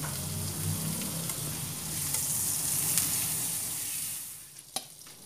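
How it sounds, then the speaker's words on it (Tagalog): Butter melting in a pan over low-to-medium heat, giving a soft, continuous close sizzle with faint crackling that eases toward the end, no speech. "we'll melt some 2 tablespoons of butter"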